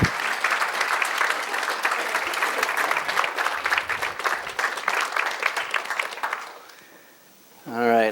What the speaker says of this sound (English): Can we actually give them a standing ovation?